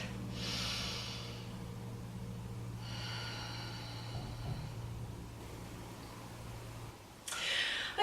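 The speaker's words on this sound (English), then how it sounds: "Deep breath in and out." Slow, deep breaths during a beginner yoga session, a long airy inhale and exhale audible close to the microphone, with a low steady hum underneath and a final breath near the end.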